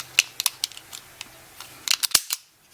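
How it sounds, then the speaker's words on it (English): Sharp mechanical clicks sound in quick irregular bursts, the hammer of a Röhm RG-300 .22 caliber blank pistol snapping close by in an otherwise quiet space. "you can hear the actual clicking of the hammer when you do that"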